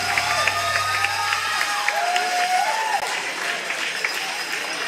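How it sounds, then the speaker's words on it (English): A crowd at a pickleball match in Arizona cheers and applauds after a shot, a dense wash of clapping with whoops and a rising voiced cheer, sustained and fairly loud throughout. "the crowd erupts here in the Orchard"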